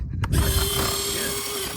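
Retractable landing gear of an E-flite Airbus A320neo twin 64mm RC airliner cycling up, a close, steady mechanical whir with ratcheting clicks and a thin whine, continuous for under two seconds.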